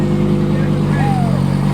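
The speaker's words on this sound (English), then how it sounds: "we're gonna just allow the Lambo to rev up real quick." A fully tuned Lamborghini at a car show, its engine giving a loud, steady low rumble that rises briefly into a rev, with crowd voices over it.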